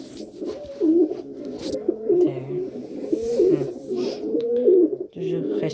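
An injured pigeon coos close by in repeated rolling, throaty phrases with brief pauses between them, clear and fairly loud against a quiet background.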